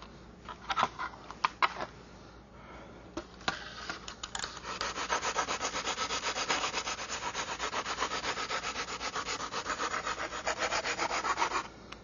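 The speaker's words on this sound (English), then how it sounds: "Now what I'm doing is sanding along that edge right there, basically cutting the fiberglass along the edge." A sanding bar rubs along a fiberglass edge on a radio-controlled model, first in a few scattered strokes, then in a long steady run of rapid scraping, close and continuous with no talk.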